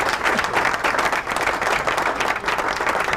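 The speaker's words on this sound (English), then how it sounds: "Kind of a low bar for the applause, right?" Steady, full audience applause in a studio, dense continuous clapping at even loudness for a few seconds with no talk over it.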